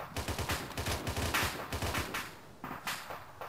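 Rapid gunfire in the military shooter game Arma 3, dense overlapping bursts and shots crackling continuously, loud and close with a brief thinning near the end.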